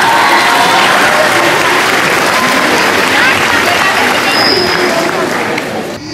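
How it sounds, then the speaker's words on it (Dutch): Warm applause from an audience at a Miss and Mister election honouring a winner, steady dense clapping with some crowd noise, loud and continuous before tapering at the end. "Een heel warm applaus."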